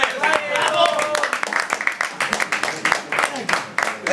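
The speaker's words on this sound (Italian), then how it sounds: "Un applauso." Scattered clapping from people at a local football match gathering, uneven and fairly close, mixed with chatter and shouting voices throughout.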